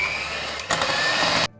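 An electric beater whirring through cake batter with a quarter cup of milk added for a chocolate cake, a steady motor drone with a brief jolt partway, then cutting off abruptly near the end.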